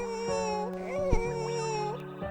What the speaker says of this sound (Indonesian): Tangisan bayi itu sangat menyayat hati.